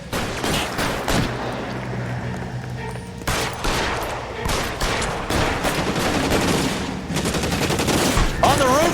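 Heavy video game gunfire in a shootout, loud overlapping shots and bursts packed close together across the whole stretch, with a voice briefly talking over the battle.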